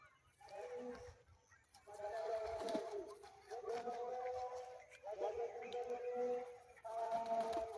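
Low, rolling coos from trained pigeons repeat in several bursts with short pauses between, close by and fairly loud, as they fly back to the handler.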